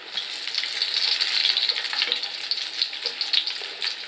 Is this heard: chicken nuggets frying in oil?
yes